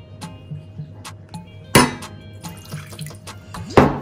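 Water runs into a glass in a home kitchen with a splashing gush and a clink, among faint drips and small taps.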